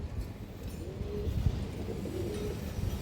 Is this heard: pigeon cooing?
yes